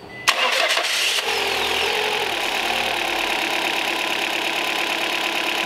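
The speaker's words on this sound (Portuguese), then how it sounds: "Pode dar partida aí, Fernando." A Peugeot 308 engine cranks and fires up after a timing belt change, catching quickly and then settling into a steady, fairly loud idle in a workshop.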